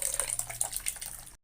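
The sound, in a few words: pouring tamarind water into fish curry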